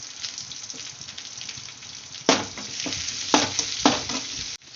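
Tomato sautéing in a pan with turmeric and salt for a bottle gourd stir-fry: close, continuous sizzle with a few sharp scraping strokes of a spoon stirring, no voice.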